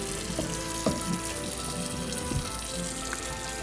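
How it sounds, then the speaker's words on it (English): Running water streams steadily from a kitchen tap over apples in a strainer, with occasional soft knocks and splashes as the fruit is rinsed nearby. "now I have my apples, not all of them, most of them in a strainer, and simply rinse them again."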